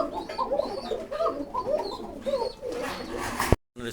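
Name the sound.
pigeons cooing at the farm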